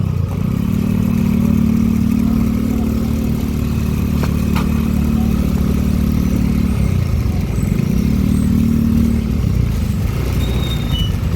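A motorcycle on a narrow residential lane near Sulok Beach, General Nakar, Quezon, its mid-pitched engine droning steadily close by for several seconds, fading, then surging briefly again before dropping back.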